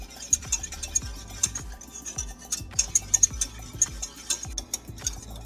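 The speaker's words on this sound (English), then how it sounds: "I'm going to keep stirring them until this mix is thick and glossy." A utensil stirs lemon meringue pie filling in a pan over medium-low heat, making soft, steady scraping strokes with faint clicks against the pan, close and quiet with no talk.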